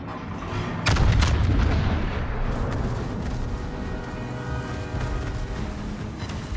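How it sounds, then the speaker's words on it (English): Heavy battleship guns on the Kremlin firing in World of Warships: a loud booming salvo near the start with sharp blasts, then a sustained rumbling roar and crackle of battle that continues at steady volume. "fire on the enemy warship"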